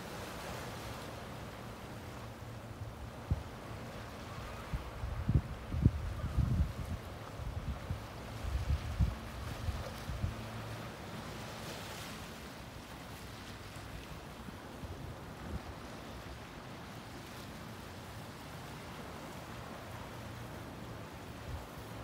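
Ocean waves washing over a rocky beach at low tide at Nantasket, Massachusetts, a steady outdoor roar of surf and wind with a louder rush of water near the middle, no voices.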